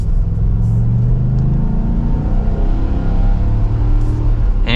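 A 2023 Ford F250 Crew Cab XLT Tremor pickup accelerating in normal drive mode, heard from inside as a loud, steady low engine rumble that rises gradually in pitch.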